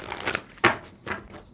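A deck of tarot cards is shuffled by hand, giving three soft papery riffles with short pauses between them, close and quiet, with no talking.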